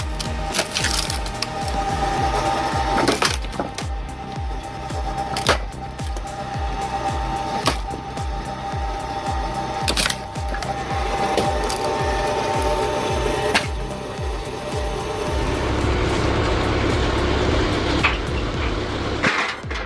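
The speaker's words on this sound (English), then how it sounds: "this electric log splitter takes the hard work out of the equation" An electric hydraulic log splitter works through firewood, giving a steady run of loud mechanical clicks, knocks and creaks as logs crack apart, with repeated sharp wood splits and a heavier grinding, rumbling stretch near the end.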